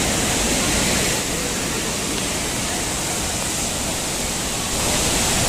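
Clear, cold water of Lakkam waterfall in Munnar rushes down in a steady, loud, continuous roar that stays close and unbroken, with no voices over it.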